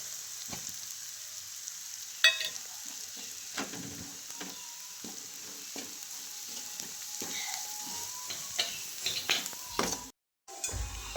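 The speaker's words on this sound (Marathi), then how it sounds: "फोडणी चांगली परतली" Spice tempering in hot oil with chili powder added, crackling and sizzling steadily for about eleven seconds, with scattered sharp pops and stirring clicks, moderately loud and close, ending in a brief dropout.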